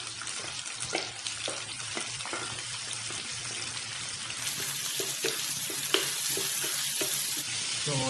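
Chicken gizzards frying in a pan of bitter gourd coconut stew, a steady broadband sizzle with scattered stirring clatters and crackles, moderately close and continuous.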